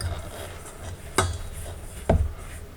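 Dry ingredients and xanthan gum are mixed in a bowl, with faint scraping and two sharp clinks of a utensil striking the bowl's side.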